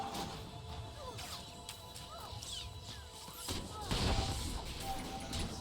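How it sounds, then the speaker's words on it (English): A crashing explosion with debris and scattered impacts in the sci-fi online game Star Wars: The Old Republic, a dense rumbling crash that swells near the end over background game noise. "That was a big explosion, bigger than I expected."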